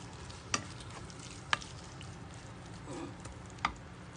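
Vegetables sauté in a pan for a Filipino ginisang gulay, a soft continuous sizzle with a few sharp clicks of a spoon stirring against the pan, quiet and without talk.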